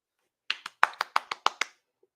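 A clapping sound effect: eight crisp, quick hand claps in a steady, slightly uneven rhythm, close and clean, with nothing else around them.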